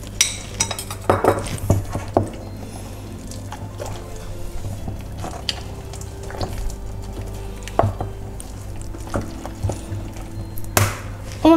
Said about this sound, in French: J'intègre mon troisième œuf, toujours pareil, on le mélange bien et on l'intègre à la pâte.